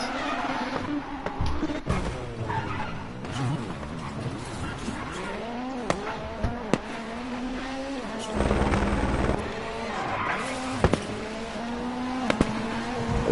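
A rally car in the WRC video game spins out, engine revving and whining up and down with tyre squeals and skidding, interspersed with sharp knocks, fairly close and continuous without talk.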